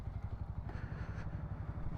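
A parked Bajaj Pulsar NS 160 motorcycle idles at night with a steady, close, low rumbling putter and an even rhythm, with no talk.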